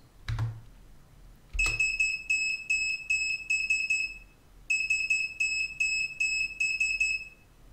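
A Raspberry Pi buzzer beeps SOS in Morse code, a high thin tone in groups of short and long beeps, repeated twice with a pause between, faint against a quiet room after a couple of soft clicks.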